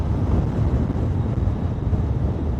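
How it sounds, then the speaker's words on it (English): Loud, steady wind roar buffets the microphone throughout, a dense low rumble from riding a Kawasaki Vulcan 650S motorcycle at 55 mph on a very windy day, with no voices. "It is very windy today, and I'm doing 55."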